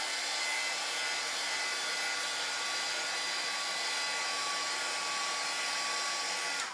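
A hair dryer blows continuously with a loud, steady hiss and hum, running alone and unchanging until it stops abruptly at the end.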